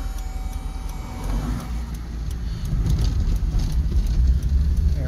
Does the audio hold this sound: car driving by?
yes